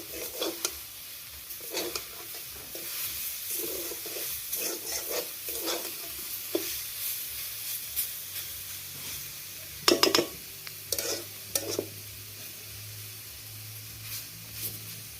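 Susni shak greens fry in a pan while being stirred, quiet sizzling broken by a series of short scraping stirs at irregular intervals, a louder cluster near the end.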